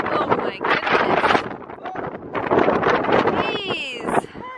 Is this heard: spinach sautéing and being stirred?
no